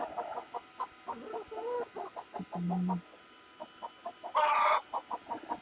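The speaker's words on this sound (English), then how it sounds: "Cold chickens." Chickens on a homestead in cold winter weather cluck in quick, choppy bursts nearby, with a short steady hum partway through and a brief, louder squawk toward the end.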